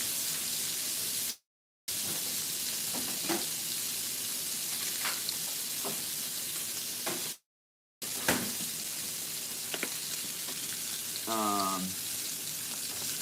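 Steak searing and sizzling in a pan while being basted with butter, a steady broadband hiss with occasional faint clicks and taps, two brief dropouts, and no talk over it.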